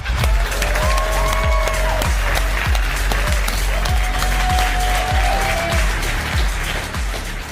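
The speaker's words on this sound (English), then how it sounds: "please give a big round of applause for Swaroon Sridhar." Audience applause at the Robinhood HOOD Summit 2025 as a speaker is welcomed on stage: dense, loud clapping from a large crowd, with a rhythmic thumping beat and music tones running underneath.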